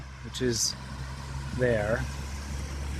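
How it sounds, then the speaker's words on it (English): Street traffic hums in the background, with a low, steady engine drone running underneath someone talking briefly twice. "Sorry for the traffic sounds and everything."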